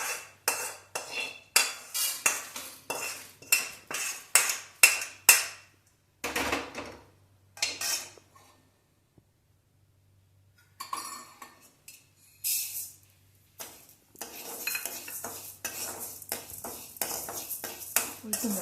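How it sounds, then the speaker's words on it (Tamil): A metal spoon scrapes and knocks against a pan while urad dal roasts for bitter gourd podi. A rapid run of sharp rhythmic clinks gives way to pauses, then to looser, scattered stirring and scraping. "உளுத்தம்பருப்பு கொஞ்சம் வறுபடட்டும், அப்புறம் நல்லா போடலாம்"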